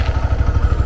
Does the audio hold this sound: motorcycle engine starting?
yes